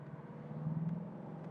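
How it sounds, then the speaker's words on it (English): A Mercedes S-Class 560 SEL engine accelerates downhill with a steady, moderately loud low drone and a smooth, continuous rise, no voices over it. "Close the roof, you know. That we can better hear the engine actually. It's a very, very beautiful acceleration"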